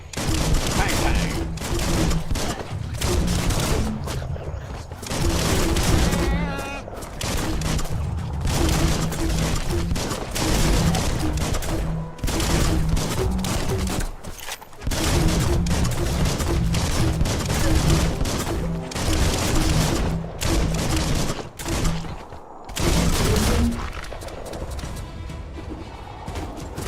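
Rapid volleys of gunfire and crashing impacts from the action video game Biomutant repeat in dense bursts with brief gaps, loud and close.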